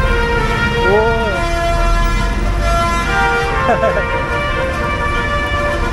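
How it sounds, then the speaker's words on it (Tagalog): A truck horn honks in busy road traffic, with harmonic blasts near the 1-second mark and again around 3.5–4 seconds over a steady rumble of engines. "Ganda ng busina ng ano, truck."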